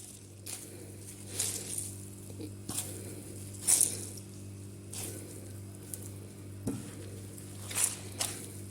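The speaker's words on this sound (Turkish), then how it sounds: "Şimdi kabak ve patatesimizin suyunu güzelce sıkıyoruz." Grated zucchini and potato squeezed by hand to press out their juice, giving a few faint, wet squelching bursts spaced apart over a quiet background, with no talking.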